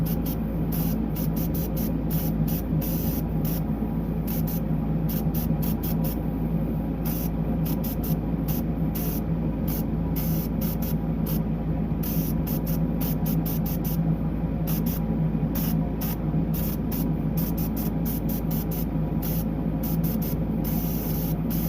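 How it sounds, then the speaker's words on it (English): Air compressor-fed spray gun spraying steadily at about 25 psi, a loud continuous hissing rush with no break for over twenty seconds and no talking. "I'm up about 25 psi on the compressor."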